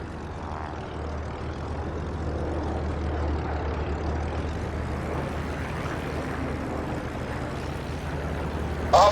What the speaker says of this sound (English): My plane is losing speed and descending.